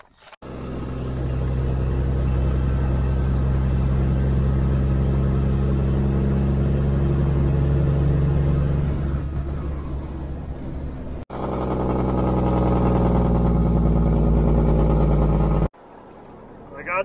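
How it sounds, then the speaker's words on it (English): Steady heavy diesel rumble of grain trucks unloading canola at a farm bin, loud and continuous with a high whine that fades, a brief break, then the engine roaring again before cutting off. "I'm gonna go dump trucks again."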